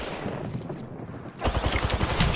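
Gunfire in the video game Apex Legends, first a dense noisy burst, then a rapid automatic string of sharp shots, loud and close.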